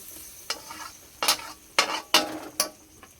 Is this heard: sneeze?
no